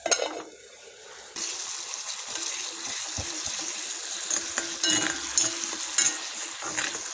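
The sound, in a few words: frying and stirring tomatoes in a pan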